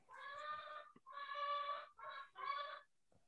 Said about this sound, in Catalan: Hi ha una gallina.